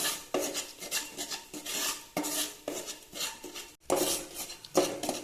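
A spoon scrapes and stirs a ground spice paste frying in ghee in a pan, repeated rasping strokes in an uneven rhythm, close and fairly loud, with no voices.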